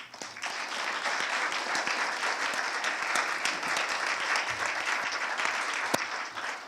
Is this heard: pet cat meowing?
no